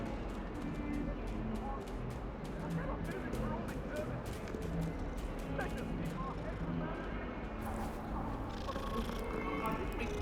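A cat in Hogwarts Legacy purrs in a steady rumbling drone, close and continuous, mixed into a dense bed of game ambience and music with no one talking.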